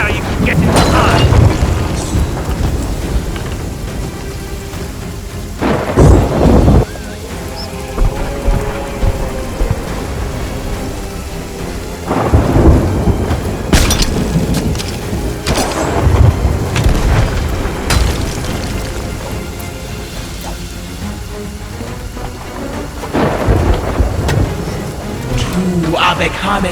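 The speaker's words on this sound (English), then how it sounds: "Calypso's lightning cracks the spy." Calypso's lightning storm in the video game Sea of Thieves: heavy rain hiss broken by several loud thunder cracks and booms at irregular intervals, with speech-like sounds mixed in among the storm.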